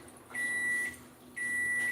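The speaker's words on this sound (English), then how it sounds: "Oh man, that clean microwave." A microwave oven sounds two clear, sustained electronic beeps about a second apart over a faint background hum, close and fairly quiet, with no talking.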